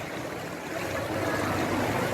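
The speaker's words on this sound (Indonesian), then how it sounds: "Alamat banjir. sudah seperti sungai." Floodwater rushing past like a river, a steady turbulent hiss of flowing water that stays continuous and moderately loud.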